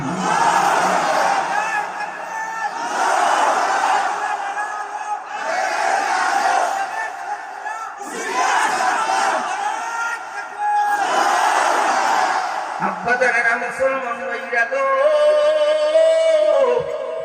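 A rally crowd roars a takbir chant response in unison, five loud surging shouts in a steady rhythm, followed by a sustained wavering vocal line over the murmuring crowd.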